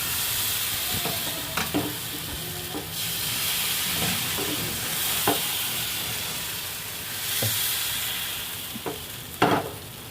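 Oil sizzling steadily in a pan while gola ruti cooks, a continuous hiss broken by a few sharper spits and stirring scrapes.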